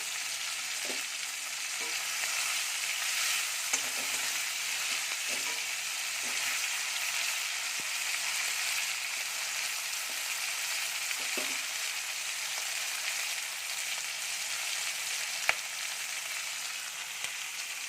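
Green chillies frying in a pan, giving a continuous bright hiss and sizzle with faint pops and scattered soft clicks throughout, and no talking.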